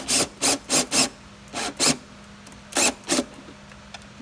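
Hand tool scraping as a screw is worked in by hand on a Can-Am X3 side-by-side during a belt replacement: a quick burst of four rasping strokes, a pause, two more, then two final ones, close and fairly loud with no talk.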